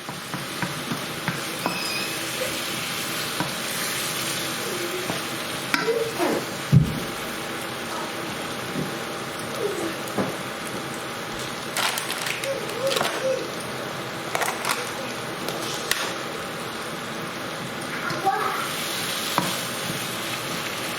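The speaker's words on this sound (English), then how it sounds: "you want it to sizzle up a little bit, because it does caramelise" Steady frying sizzle from a pan of ingredients caramelising for a chicken rogan josh, with occasional scraping stirs and clinks, heard close up without talking.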